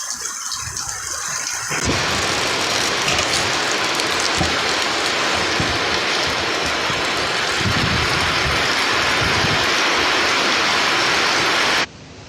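Heavy rain pours down suddenly, a dense steady hiss with rattling on surfaces, then cuts off abruptly near the end.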